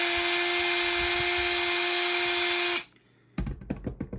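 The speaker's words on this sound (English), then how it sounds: "As you drill, you will have to clean off the bit." Power drill boring a hole in a freshie, heard as a loud, steady high whine that stops abruptly. After a short pause come a few sharp clicks and knocks.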